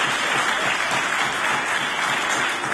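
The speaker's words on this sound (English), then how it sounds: "I'm going to ask the members opposite to save the applause" Members applaud in a provincial parliament during Question Period; a steady wash of clapping from a chamber full of people runs evenly without speech over it.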